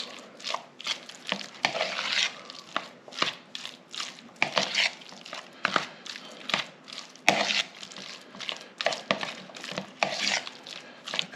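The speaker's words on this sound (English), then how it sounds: "And now we're going to mix." A spoon stirs and scrapes through thick pimento cheese mixed with mayonnaise in a bowl, making irregular, close, sticky strokes and clinks with short pauses and no talking.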